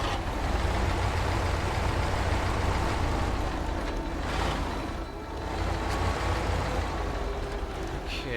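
A heavy off-road truck engine drones continuously while crawling over rocks in the SnowRunner video game, a dense rumbling roar with little change throughout.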